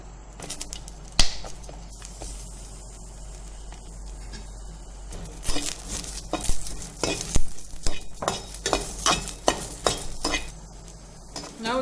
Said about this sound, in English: Now add just 2 drops of oil and we will fry the ripened chilies as we fried the green chilies